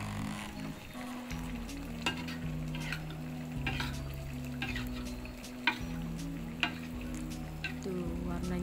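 Fish stirred and frying in a garang asam broth of tombro carp, with a steady sizzle and bubbling under repeated scraping stirs and a few sharp utensil clicks against the pot, close and continuous throughout.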